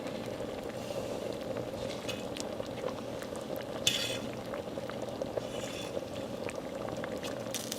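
Creamy pea soup bubbles and simmers steadily in a pot on the stove, a continuous soft boiling hiss with occasional small pops and a faint clink, heard alone.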